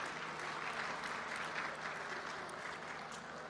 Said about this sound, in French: Je voudrais qu'on applaudisse également le Conseil national de régulation